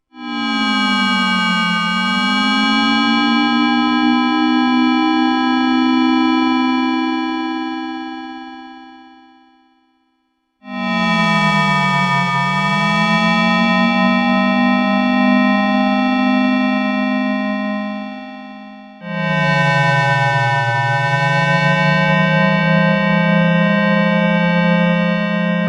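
Three long Moog Matriarch FM synth notes, each with eerie sweeping pitch bends and a bright buzzing timbre. The first fades out before the next two begin; loud and close, with no voices.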